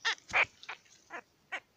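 A loud, piercing bird of unknown species calls in the open outdoors, its chicken-like squawks coming in five sharp separate bursts, the second one the strongest, with no talking.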